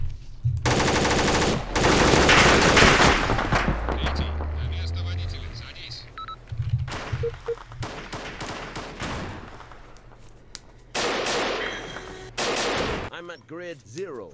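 Rapid video-game gunfire in a shootout with police, with bursts of loud shots near the start and again later, mixed with people talking over voice chat and scattered game noise.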